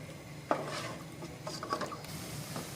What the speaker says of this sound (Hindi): ये प्याज डाल दिए हैं, अब इसको थोड़ा फ्राई कर लेंगे तेल में